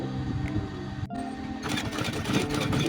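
A sewing machine stitches a pair of Levi's jeans in a tailoring repair shop, its motor whirring close and loud, briefly pausing, then rattling up into a fast steady run of needle strokes.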